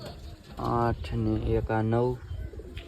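Pigeons in a loft on a rainy day coo in two close, loud, rolling bursts, their deep throaty calls overlapping with a person counting the birds aloud.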